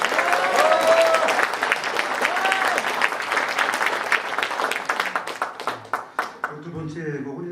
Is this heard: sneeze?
no